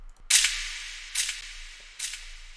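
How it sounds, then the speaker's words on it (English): Three sharp gunshot sound effects punctuate a drill beat, each a bright crack with a short decaying tail, spaced roughly a second apart with no one talking. "I also added a gunshot."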